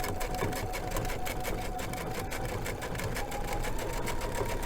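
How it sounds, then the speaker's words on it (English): A sewing machine stitching with a compact digital dual feed foot, running steadily with a rapid, even mechanical chatter and hum throughout, close up and alone. "I am just going to do a little bit of stitching"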